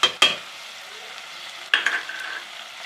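Aloo methi sabzi, potatoes with fenugreek leaves, is sautéed in a pan. Two sharp scraping strokes open the clip, followed by a softer sizzle and then another cluster of utensil scrapes near the end, with no voices.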